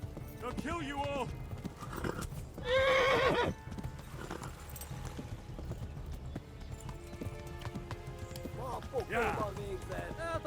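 Fast, steady hoofbeats from a galloping horse in the medieval game Kingdom Come: Deliverance run throughout. Loud, close neighs break in early and again near the end, and speech is heard intermittently.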